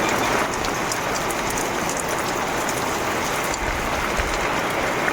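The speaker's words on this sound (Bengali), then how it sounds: "ঝমঝম করে বৃষ্টি পড়ছে" Heavy rain pours down steadily in the Sundarbans, a dense, loud wash of drops with faint rattling and ticking mixed into it. It carries on without a break and no one speaks over it.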